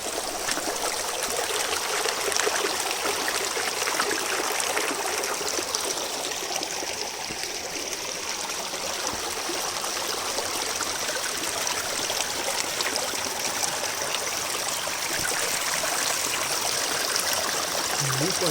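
Stream water flows steadily at Chopta, a constant bright trickling rush that stays close and even throughout without clear talk.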